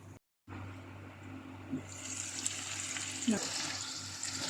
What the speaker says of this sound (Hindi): अब हम इसमें ऐड करेंगे फ्राई किया हुआ चिकन। मसालों के साथ अच्छी तरह से मिक्स कर लेंगे